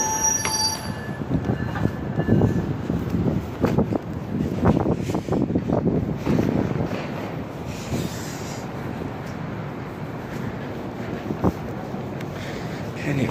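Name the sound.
Metra commuter train passing on rails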